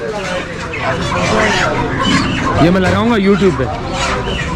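Chickens cluck and squawk nearby during delivery to shops in Pakistan, with someone talking over them and a few louder warbling cackles in the second half.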